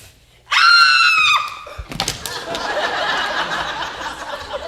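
A woman lets out a loud, shrill scream lasting about a second during a stage performance of Clue, followed by a thump and a murmur of noise.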